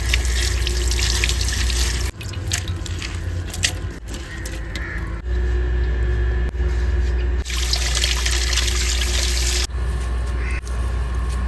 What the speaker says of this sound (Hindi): अब इस पालक को भी धो लेती हैं।